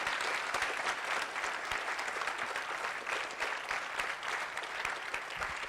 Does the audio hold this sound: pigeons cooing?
no